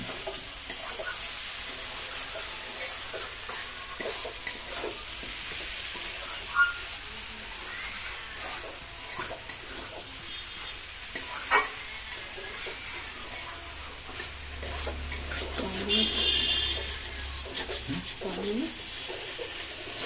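Eggplant and egg curry, made with eggplant and eggs, stirred as it fries in a pan, giving a steady sizzle broken by scraping stirs and a couple of sharp knocks of the spoon, close and continuous.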